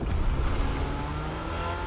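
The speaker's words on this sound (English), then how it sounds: "I hear a car." A car in Fortnite drives with a steady engine drone and low rumble, fairly close and continuous, with no speech over it.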